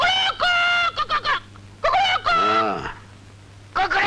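A man imitates a chicken's clucking in a Hindi film scene, giving a series of loud, strained, squawking calls with short pauses between them.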